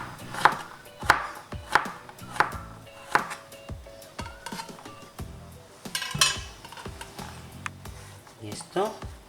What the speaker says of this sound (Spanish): Vamos a cortar los pepinillos en vinagre en rodajas.